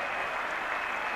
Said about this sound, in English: the crowd has gone noisily berserk.